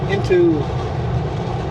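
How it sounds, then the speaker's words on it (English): Container freight train rolling past near a siding by Mara Lake at Sicamous, a steady low rumble with a brief higher squeal early on, heard at moderate distance with no talk. "there's 2 trains. One's sitting on the siding, the other one's zooming by."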